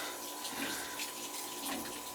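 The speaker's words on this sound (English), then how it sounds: "see if we're still getting a water flow through it now" Water rushing steadily through a Taco circulator shutoff flange, a close, continuous hiss with no speech.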